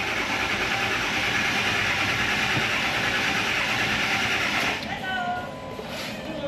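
A Ford F250 with a 400,000-mile 7.3 Power Stroke diesel, held at full throttle while it is cranked and will not start, giving a steady, loud mechanical churn that cuts off near the end, with someone talking over it.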